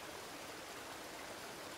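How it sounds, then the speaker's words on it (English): Soft, steady water movement in a creek, a gentle continuous wash without distinct splashes, quiet and even throughout. "I hear a soft splashing that draws my attention to the water"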